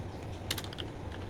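Short burst of keystrokes on a computer keyboard while entering a network command, a few close, quiet clicks clustered together over a low steady hum.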